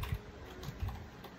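Steady, close keystrokes on a computer keyboard while CSS code is being entered, a run of quiet, irregular clicks with no talking.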